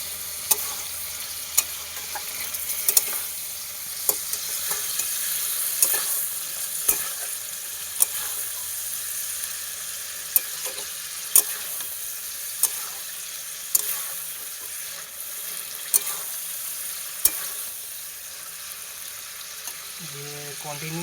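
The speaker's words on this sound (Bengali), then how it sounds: "আদা বাটাটা দেওয়ার পরে একটু মিক্স করে নেব।" Chicken stirred with ginger paste in a frying pan, a steady sizzle carrying regular sharp scrapes and taps of the spoon against the pan, close and fairly loud throughout.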